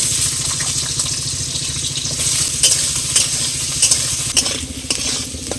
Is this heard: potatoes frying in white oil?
yes